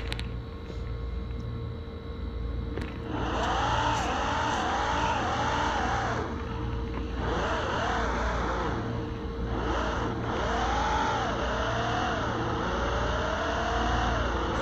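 Fast cars including a Nissan GTR and a Mercedes rev and accelerate in the mobile game Car Parking Multiplayer, engine notes rising and falling in repeated surges over a constant background tone, loud and up close.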